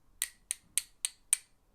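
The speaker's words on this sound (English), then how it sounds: "And we can tap." A wooden stick beater taps a small Matsu guiro five times in an even rhythm. The clicks are sharp, dry and close, each one fading quickly.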